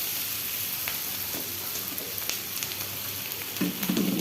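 Noodles stir-frying in an oily pan, a steady close sizzle with scraping stirs and a louder burst of frying near the end.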